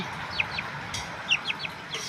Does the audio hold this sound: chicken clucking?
yes